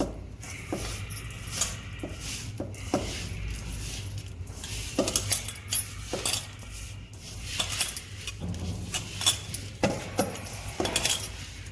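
Soaked poha being stirred with a utensil in a bowl while making crispy sev rolls, giving a run of close, light clinks and scrapes of metal on the bowl at an uneven pace.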